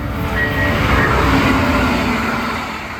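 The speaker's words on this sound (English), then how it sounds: "We're taking Florida's new high-speed train service" A Brightline high-speed passenger train in Florida rumbles loudly and steadily nearby, a broad rolling roar with faint whining tones, tapering off slightly toward the end.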